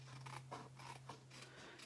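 Scissors trim a paper overhang from the edge of a handmade card, several quick close snips in a rapid rhythm over a faint steady hum.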